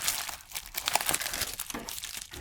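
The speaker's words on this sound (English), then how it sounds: "I'm just gonna probably snip it around here." Plastic Amazon mailer package being cut open with scissors, giving soft crinkling and snipping bursts in a quick irregular rhythm, close and fairly faint.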